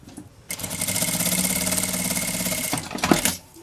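A sewing machine runs steadily, stitching fabric along pinned spots on a travel toiletry bag, starting abruptly and humming at an even, close pace for about two and a half seconds before stopping with a few handling clicks.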